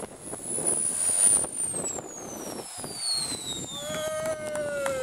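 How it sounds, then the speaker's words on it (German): Twin JetCat jet turbines on a Mystic RC powerboat spin down at a model boat event in Krugsdorf in 2015, a high whine sliding steadily lower in pitch over several seconds, with a second tone emerging near the end amid crowd noise. "Oh, wie die Turbinen runterfahren!"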